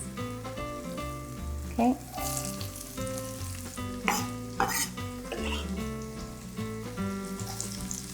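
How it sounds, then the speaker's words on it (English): Onions sauteing in ghee in a pot for butter chicken give a steady, close sizzle and frying crackle that runs throughout, with occasional stirring clinks and a voice speaking briefly under music. "I'll add a bit more ghee and I'll saute my onions."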